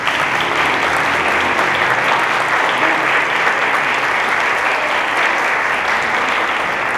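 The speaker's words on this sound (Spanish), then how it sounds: "les pido por favor un fuerte aplauso" A large audience claps loudly and steadily at a school music concert, a dense, continuous roar of applause with no pauses from start to finish.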